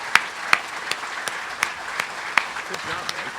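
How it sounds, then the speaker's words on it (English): A room of people at a press conference applauds the introduction of a new athletic director, a steady patter of clapping with a few sharp nearby claps standing out and voices mixed faintly underneath. "how about a round of applause for our new athletic director, Jim Sterk."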